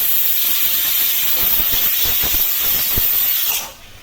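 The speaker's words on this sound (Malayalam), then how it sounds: "നമ്മുടെ കുക്കർ ആദ്യത്തെ വിസിൽ വന്നിട്ടുണ്ട്." Pressure cooker releasing its first whistle while Kerala olan cooks, heard as a loud, continuous jet of hissing steam that stops abruptly near the end, with no voices.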